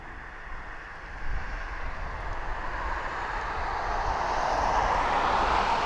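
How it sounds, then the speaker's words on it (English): A Jet2 airliner sits on the runway at East Midlands Airport spooling up for takeoff, a loud, broad engine roar that swells and holds steady from a distance, with wind noise and no speech. "the Jet 2 is on the runway, literally getting ready to go right now"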